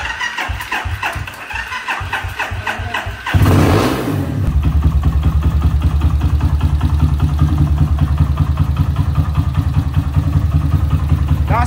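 A Honda Sahara motorcycle engine cranks with a stuttering starter for a few seconds, then catches and settles into a steady, close, loud idle with an even rhythmic thrum.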